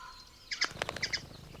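Birds chirp in a Canadian summer wilderness, a short burst of bright, high tweets in quick succession, clear and moderately close against a quiet background.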